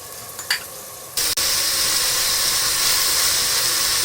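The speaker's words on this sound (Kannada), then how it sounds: "ಅದು ಹಸಿ ವಾಸನೆ ಹೋಗೋವರೆಗೂ ಆಡಿಸ್ಕೋಬೇಕು" Masala paste sizzles loudly in a hot pan for a mushroom biryani, with a few scrapes and clinks of stirring at the start, then a continuous close frying hiss.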